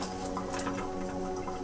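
Low, steady stream of tap water running over carrots as they are washed and brushed in a kitchen, a soft continuous trickle and splash heard up close without talk.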